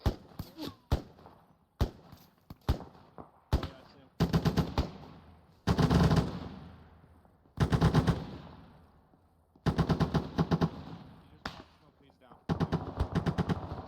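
Gunfire crackles during joint military squad training outdoors: loud, close bursts of rapid automatic shots and single reports, repeated across the clip with short pauses between volleys.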